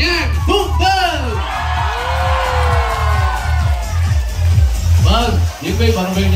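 An audience cheers, whoops and shouts to welcome the actor and athlete Nhan Phương Vân onto a stage. The crowd noise is loud and continuous, with voices rising and falling in swells.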